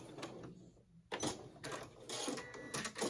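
Sewing machine back stitching the bottom of a fabric bowl cozy, a close, busy mechanical whirr in short bursts with a brief pause before it starts up again.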